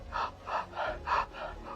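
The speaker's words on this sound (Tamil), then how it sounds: "வாயை திறந்துட்டு மூச்சு விடுங்க." Open-mouth breathing during a breathing exercise: five even, rhythmic breaths, each a soft airy whoosh, heard close and clear with no speech.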